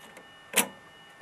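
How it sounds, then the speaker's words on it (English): A 5¼-inch floppy diskette is pushed into the drive of a Zenith Z-158 XT clone, giving one short, fairly close clunk of plastic and metal against a quiet background. "Here's a 5¼-inch floppy diskette. It should clamp down on this."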